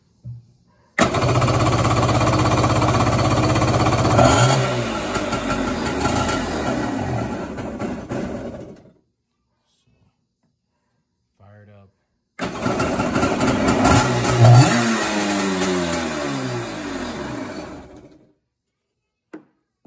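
Kawasaki X2 engine with carburetor trouble revving up and then dying out, twice: loud sustained running cut off to silence, a brief sputter between the two runs, with someone talking over it.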